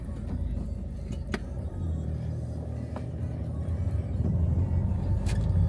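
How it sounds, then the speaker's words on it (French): Low engine rumble from inside a car as it pulls away, steady and muffled, with a few faint clicks and knocks. "on est dans la voiture et on quitte la maison"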